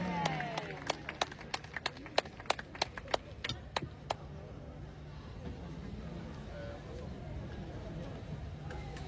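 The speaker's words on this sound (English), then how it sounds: "Clap your hands together." Congregation clapping hands together at a church-style birthday breakfast: a run of sharp, distinct claps for about four seconds, then a room murmur with voices.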